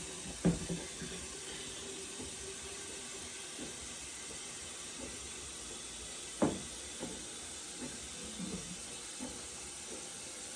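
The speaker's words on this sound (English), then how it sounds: "Get some hot water here." Hot water runs from a kitchen tap to top up jars of dry beans and baked beans for canning, making a steady, continuous hiss with a few faint knocks and clinks.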